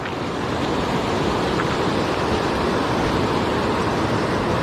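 Rushing river water on the Ping River swelling from a dam release, a loud, dense, continuous roar of flowing water with a steady broadband wash and no pauses.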